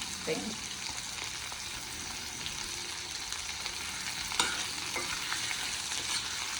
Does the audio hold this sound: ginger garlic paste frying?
yes